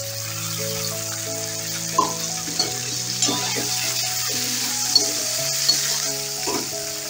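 Green peas frying and sizzling in a pan with steady hiss, stirred at intervals with soft scraping knocks, while steady background tones from a nearby instrument or appliance hum underneath.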